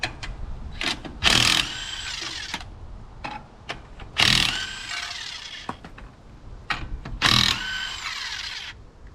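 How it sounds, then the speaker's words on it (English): A 1/2-inch impact wrench zips a wheel's lug nuts off a 1965 Dodge A100 in several short, loud, rattling bursts, separated by quieter clinks and shop noises. "I'm gonna buzz this wheel off with my 1/2-inch impact real fast"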